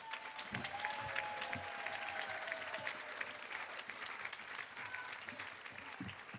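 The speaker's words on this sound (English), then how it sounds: "So give one more round of applause for Beth" Guests at a formal 4-H camp centennial dinner give Beth a warm round of applause, steady clapping from the room with occasional louder hand claps and a faint whistle.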